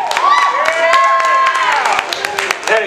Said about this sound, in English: And clapping, yes. And cheering.